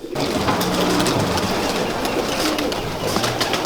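A pigeon coos low beneath a loud, constant broadband wash like heavy rain, the cooing faint and partly buried throughout.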